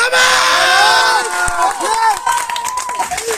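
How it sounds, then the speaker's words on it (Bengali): A crowd cheering and shouting loudly at once, with excited voices and yells that fade into scattered calls, close and lively. Clapping is not clearly heard. "হাততালি হোক।"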